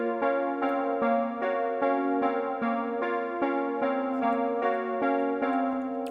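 A simple, low synth melody from a trap beat plays alone, a clear repeating phrase of bright stepped notes in an even rhythm around middle C.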